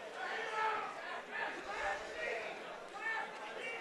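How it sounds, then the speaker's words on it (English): Arena crowd at an amateur MMA event shouting and cheering continuously, a dense wash of many voices rising and falling in waves, calling for knee strikes during a grappling exchange. "Crowd's calling for knees."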